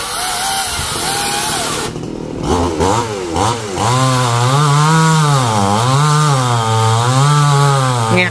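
A chainsaw cuts down a coconut tree, its engine revving up and down loudly and close by after a brief burst of rough cutting noise.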